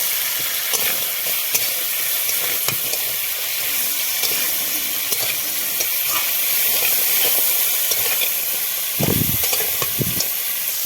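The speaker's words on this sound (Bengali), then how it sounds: "আমার কাঁকড়াটা কিন্তু ভাজা হয়ে গেছে" Crab fries in a wok with a continuous close sizzle and hiss, broken by occasional stirring scrapes and a few low thumps toward the end; no one speaks.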